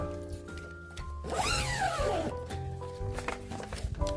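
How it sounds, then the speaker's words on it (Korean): A zipper on the rain cover of a folding three-tier display stand with a roof frame is pulled shut in one sweeping, close zip lasting about a second, with light handling noise around it. "이렇게 지퍼를 잠가 주시면"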